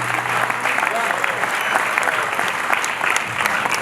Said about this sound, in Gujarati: જોરદાર તાળીઓ થઈ છે મિત્રો